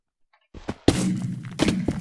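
A TNT explosion in Minecraft Mega Walls: a sharp thud, then a broad rumbling blast that sustains and flares again, loud and close.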